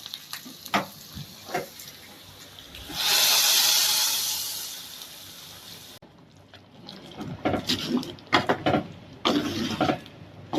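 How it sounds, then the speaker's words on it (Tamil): Hot oil tempering of asafoetida and curry leaves poured into a taro buttermilk curry, giving a burst of loud hissing sizzle lasting about three seconds, then fading into softer bubbling and clinking of utensils. "பெருங்காயம், கருவேப்பிலை. இப்போ இதை நம்ம மோர் குழம்புல ஊற்றிடுவோம்."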